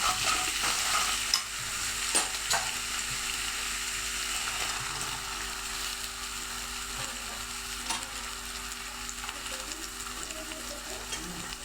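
Garlic, ginger and onion fry in a pan for misal, a continuous even sizzle with occasional faint stirring knocks, steady and moderately quiet with no speech.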